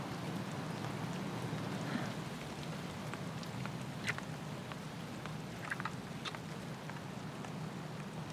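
Rain falls steadily as a soft, continuous patter with scattered sharper drops hitting nearby surfaces. The sound stays even and fairly quiet throughout, with no voices.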